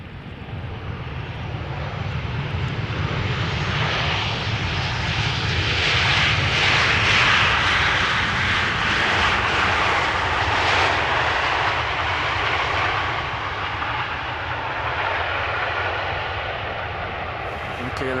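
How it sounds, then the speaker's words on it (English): A Transavia Boeing 737-800 jet arrives at Amsterdam Schiphol Airport, its engine roar building to a loud broad rumble and then slowly easing off, with a voice talking over it. "this is a Transavia 737-800 arriving from Lanzarote."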